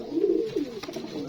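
Blue satinette and other fancy pigeons in a loft give a close, throaty coo that swells and falls once, followed by faint rustling.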